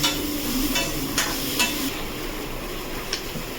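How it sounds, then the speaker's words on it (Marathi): Chopped onion fries in a pan with a steady, close sizzle, broken by a few light scraping knocks of stirring. "इथे आहे कांदा फ्राय होतो"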